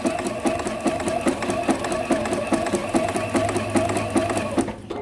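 Domestic sewing machine stitching a fabric applique shape for a Christmas tree quilt block, a steady close rhythmic whirring hum with evenly repeating needle ticks running throughout, easing off at the very end.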